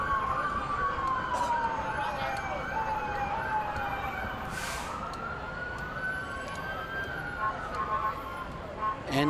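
A fire truck siren from Ladder 19 wails in a firemen's parade in the Village of Mamaroneck, its pitch sweeping up and down continuously over steady crowd and street noise, with voices talking underneath.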